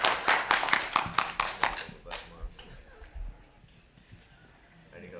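Audience applause after an artist conversation, a burst of dense, close clapping that thins into scattered claps and fades within a few seconds, with faint voices underneath.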